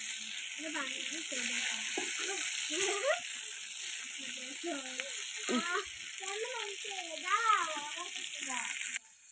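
Fish frying in a pan at home gives off a steady, close sizzle that lasts throughout, while a person talks over it in a sing-song voice.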